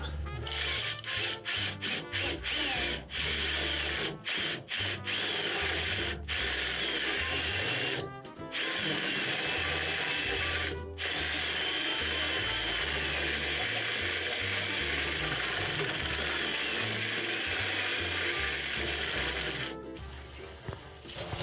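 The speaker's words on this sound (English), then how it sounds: "All right, let's drill." A power drill whirs continuously into fiberglass for a long stretch, stopping and restarting several times with brief gaps, close up and fairly loud.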